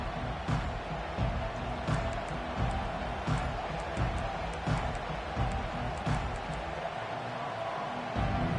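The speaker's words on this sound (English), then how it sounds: "this home crowd is fired up and ready to make a difference today" A home crowd at a Washington versus Texas football video game keeps up a steady, dense roar of cheering throughout, with scattered sharp claps and thumps standing out.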